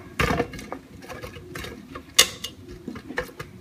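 Broccoli pieces tumbling into a rice cooker pot, giving a few light clattering knocks and a sharper clink near the middle, close and moderately loud with no talk.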